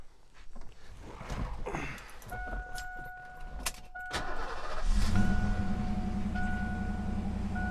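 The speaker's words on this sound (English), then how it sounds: "Fires right up." A 1988 Ford Mustang GT convertible's 5.0 V8 engine cranks and catches, then settles into a steady idle close by, with a faint jingle of keys and a soft chime, no voices.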